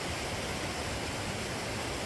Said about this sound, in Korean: 작은 계곡물도 졸졸졸 예쁘게 흐르네요